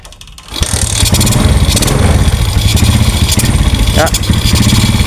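A motorcycle engine with a newly fixed ignition fault catches on the first kick after a brief crank and settles into a loud, rough, steady idle close by.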